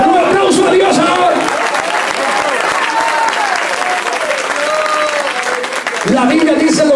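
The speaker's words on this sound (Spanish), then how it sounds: "Un aplauso a Dios ahora." A church congregation applauds during an evangelical revival service, loud sustained clapping and crowd noise with a preacher's voice audible over it at the start and again near the end.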